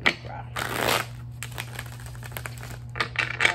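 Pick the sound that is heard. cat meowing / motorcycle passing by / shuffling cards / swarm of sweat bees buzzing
shuffling cards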